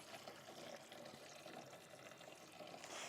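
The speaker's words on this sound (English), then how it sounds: "I'm waiting for the water to fill up" Water running steadily into a washing tub for off-grid laundry using rainwater, a continuous close, moderate splashing fill with no talk.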